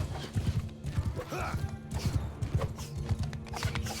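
Horse archers ride in a Mount and Blade 2 Bannerlord battle, hooves clattering in quick, dense clip-clop rhythms over rumbling battle noise, with a brief whinny and faint voices in the background.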